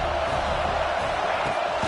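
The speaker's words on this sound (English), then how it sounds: "This crowd bringing the energy and noise early." Football stadium crowd at a Bearcats vs Utah game: a loud, dense, continuous roar of many voices cheering, with no break across the span.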